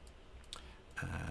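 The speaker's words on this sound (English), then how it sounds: "You can hear my mouse clicks going mad as I sort of just click around." A computer mouse gives a few soft, separate clicks close by while someone works on a fantasy map at a computer, followed by a burst of faint rustling.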